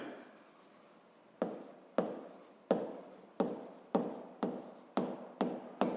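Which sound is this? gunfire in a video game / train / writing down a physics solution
writing down a physics solution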